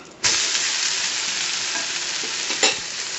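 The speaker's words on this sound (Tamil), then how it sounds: "நல்லா கொஞ்சம் எண்ணெய் விட்டுக்கோங்க நல்லா வந்துட்டு வேகட்டும்" Wheat dosa frying in oil on a hot pan makes a steady, close sizzle that runs unbroken through the whole clip, with a sharper crackling burst near the start and another toward the end.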